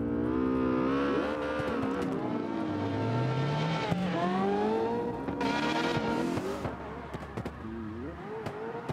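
Ferrari drift car in a CarX drifting practice session, engine revving and climbing through gears with tire squeal as it slides, loud and close, then fading into sharper bursts near the end.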